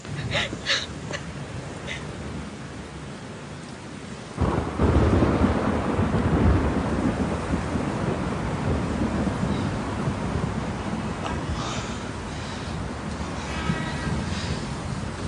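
Heavy rain hisses steadily at night while a deep rumble of thunder rolls in partway through and lingers under the downpour.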